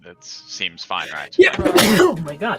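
A single sneeze breaks into a tabletop role-playing game session, arriving after brief conversation and followed by excited voices talking over and after it.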